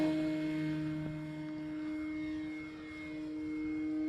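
An E-flite Carbon Z Cessna 150 electric RC airplane on its maiden flight, giving a steady droning motor whine that fades slightly as it passes, with no talking.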